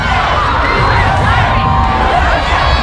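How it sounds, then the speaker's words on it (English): A large crowd at a US Women's Soccer parade cheers and shouts continuously, loud and dense, with whoops and overlapping voices throughout. "And the crowd gave the team a hero's welcome."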